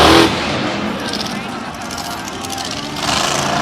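The broken Brutus monster truck's engine revs and drones through a Monster Jam arena at Tampa, rough and fairly loud with surges at the start and end, while a commentator talks over it.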